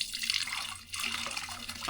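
Butterfly pea flower tea is poured from a height into a vessel, giving a close, bright splashing trickle that dips briefly in the middle and then resumes steadily.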